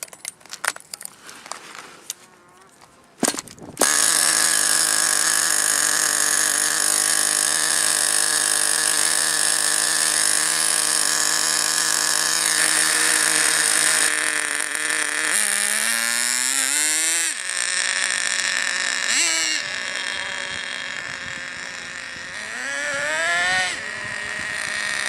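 A small nitro model engine running during break-in: it sputters and catches after a few seconds, then holds a loud, steady high-pitched buzzing whine, with throttle dips and revs near the end, up close and alone.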